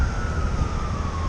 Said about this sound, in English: And there's another cop car or Ambo coming past now.